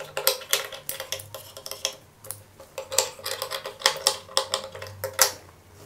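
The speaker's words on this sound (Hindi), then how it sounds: "अब हम ये अंदर वाले कपड़े की कटिंग कर लेंगे।" Scissors snip through inner lining fabric being cut for a kurti, a quick run of crisp, close cutting clicks in uneven bursts with no voices.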